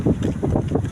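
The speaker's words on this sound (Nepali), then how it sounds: "अहिले हल्का हल्का हावा आएको छ।" Light breeze outdoors buffeting the microphone in soft, rhythmic low gusts, fairly loud and close, with no voices.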